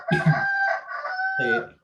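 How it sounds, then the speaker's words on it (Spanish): A rooster crows close by, one long strained call with a second bird overlapping, loud against a quiet background. "tengo gallos acá apareciendo"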